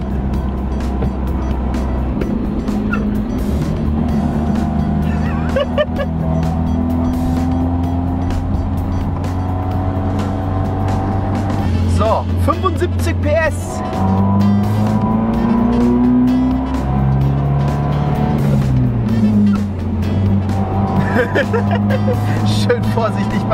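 A 1960 Volvo PV544 with a 75 hp engine drives along while the gears are shifted. The engine note is loud and close, rising in pitch, then dropping at each shift and climbing again, with a voice speaking over it at times.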